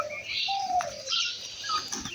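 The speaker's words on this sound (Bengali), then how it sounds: "ফ্রেন্ডস, সকালে উঠে দেখতে পাচ্ছি এখানে কবুতরে খাবার খাচ্ছে।" Pigeons feeding in a morning yard alongside chickens give a few short, close coos and soft calls over a quiet outdoor background.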